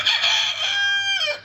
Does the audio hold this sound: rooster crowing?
yes